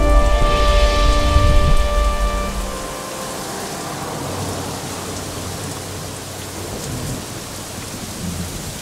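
Steady heavy rain pours down, with a deep rumble of thunder rolling through at the start before fading into the constant downpour.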